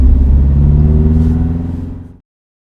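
A Subaru Crosstrek with a manual transmission revs hard nearby, a loud throaty engine roar with a rising growl that holds for about two seconds before cutting off abruptly.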